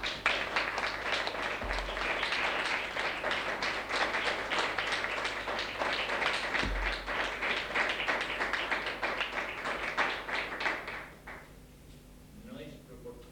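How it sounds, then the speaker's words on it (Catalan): Audience applause following a poetry recital at a school presentation, a dense, sustained round of clapping from a crowd lasting around ten seconds before fading out into quiet room sound. "No es proporcionado el aplauso a la poesía. Por eso aplaudimos poco."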